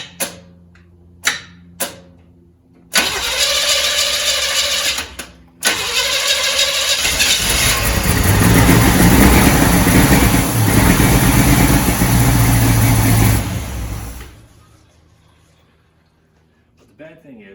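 An El Camino engine cranks with a fast whirring starter, catches briefly, then roars roughly for several seconds close up before dying away, with a few clicks beforehand.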